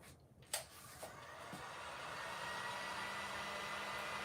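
Hair dryer blowing on a cup, starting after a few small knocks and building into a steady close whir that continues to the end; no talk.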